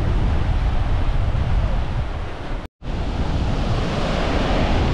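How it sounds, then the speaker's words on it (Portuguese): A strong northeast sea wind sweeps across a small beach at Arraial do Cabo, producing a loud, continuous rush of wind and surf that cuts out for a brief moment midway. "E a prainha continua frenética com esse vento nordeste, esse vento maral"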